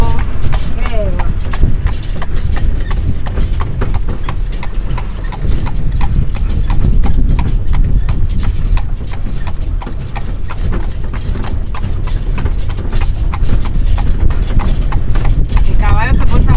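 A horse's hooves clip-clop steadily on the streets of Varadero, Cuba, a brisk regular rhythm close by under continuous talking.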